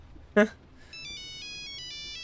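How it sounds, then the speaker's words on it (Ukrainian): An in-game phone rings with an incoming call, a loud electronic ringtone of alternating tonal beeps starting after a brief vocal sound and continuing steadily to the end. "Так, нам телефонують."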